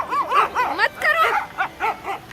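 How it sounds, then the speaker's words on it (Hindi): Dog barking in a run of quick, close yips and bow-wows, about seven short barks in a little over two seconds, fairly loud and alone. "क्या हमें क्या भौंक रही है?"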